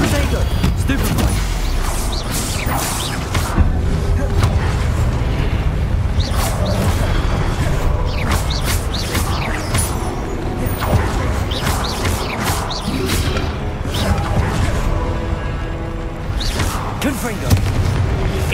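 Hogwarts Legacy spell-casting combat: a dense stream of explosive booms, crashes and bursts from casting Incendio, Confringo and other spells, loud and continuous over a thick game-score background, with repeated sharp impacts throughout.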